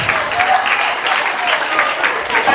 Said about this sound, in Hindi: तालियों के साथ पुरतपाक इस्तकबाल कीजिए